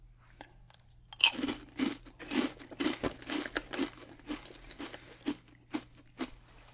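Crunchy, lightly puffed honey corn chips chewed close up, a loud first bite followed by a steady run of crisp crunches about twice a second, fading slightly toward the end, with no talking.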